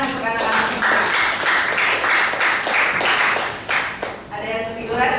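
Applause for a group of children at a school gathering, a dense, steady wash of many hands clapping close by for several seconds, with a voice talking over it.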